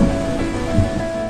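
A heavy rainstorm with thunder, dense rain pouring steadily onto surfaces with a deep rumble underneath, loud and continuous.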